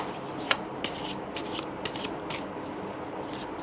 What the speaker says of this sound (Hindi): एक बार और शफल कर लेते हैं